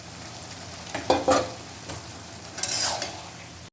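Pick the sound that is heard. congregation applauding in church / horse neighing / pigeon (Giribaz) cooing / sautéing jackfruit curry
sautéing jackfruit curry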